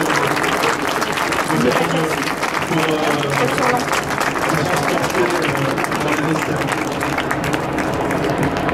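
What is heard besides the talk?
audience applauding Jean-Pierre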